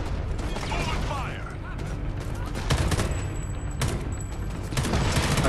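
Gunfire in the video game Homefront: The Revolution, a mix of clattering shots and mechanical weapon noises in short bursts over a steady game background, with no talk.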